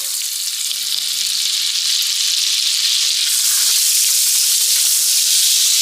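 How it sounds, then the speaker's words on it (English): Butter sizzles in the bottom of a pot coated with browned bits left from searing beef short ribs. The hiss is loud, close and steady, with a faint tonal ringing underneath and no talking. "gonna add in a little bit of butter to help break it up"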